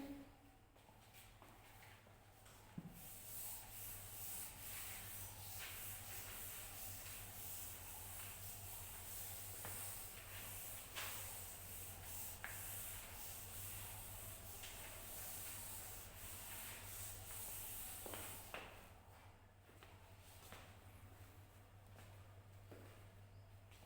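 Writing being erased from a board by rubbing, a faint steady scraping hiss that goes on for about twenty seconds over a low hum before fading out.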